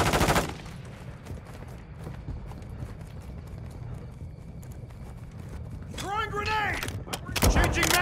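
Gunfire in a third-person shooter game set at night: bursts of shots open the clip, then a quieter stretch of low ambient rumble and scattered sounds, ending with another loud burst and a speaking voice.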